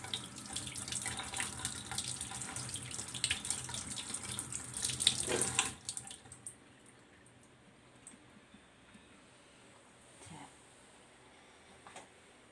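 Tap water runs steadily as a papaya is washed under it in a sink, a close, splashy gush for about six seconds before stopping, followed by faint drips and handling noises.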